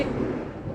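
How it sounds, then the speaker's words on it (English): A low, deep rumble of thunder from a massive thunderstorm rolls through, steady and muffled, fading slightly toward the end. "If you hear the thunder in the background, we are having one massive thunderstorm here right now."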